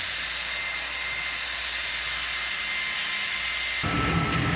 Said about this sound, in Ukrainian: А так із включеною витяжкою.